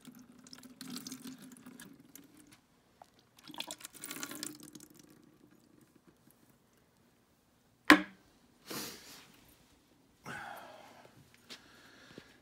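Hot water runs from a tap into a sink with Dawn dish soap, coming in separate bursts of splashing flow with quiet gaps and a sharp clunk between them.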